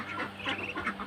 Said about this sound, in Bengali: দেখতে থাকুন আমি কীভাবে হাঁসকে কচু খাওয়াই।